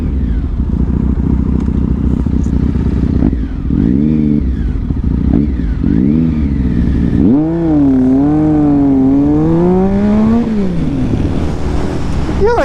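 A 2021 Triumph Speed Triple motorcycle roars as it accelerates hard, its engine note rising through several gear changes and sweeping past loudly outdoors.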